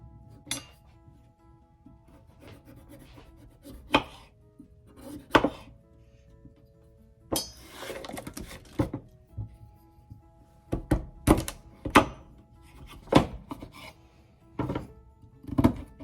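Yuca root being chopped into pieces on a board: a string of sharp knife thunks and chops, some single and some in quick clusters, close and clear with quiet gaps between, and no talking.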